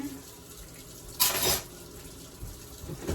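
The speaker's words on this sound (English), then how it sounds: "let's get a little bit of dishwater going here" A kitchen sink tap runs briefly to fill dishwater, a soft rushing splash lasting about half a second against a quiet background.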